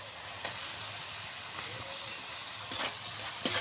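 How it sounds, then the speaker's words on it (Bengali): Chopped tomatoes drop into a hot pan of spice paste with chili and turmeric powder for a spicy chaat, giving a steady faint sizzle with a few brief louder bursts of hiss as pieces hit the oil. "কেটে রাখা টমেটোগুলো দিয়ে দেবো"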